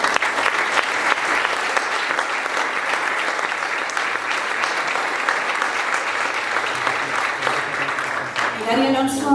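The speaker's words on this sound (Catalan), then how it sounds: "Emili Vera, un aplaudiment també per a ell." An audience at an awards ceremony in a theatre applauds steadily and loudly, filling the room with sustained clapping, and a voice begins speaking as it fades at the end.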